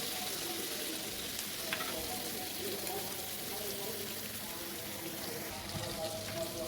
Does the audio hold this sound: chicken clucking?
no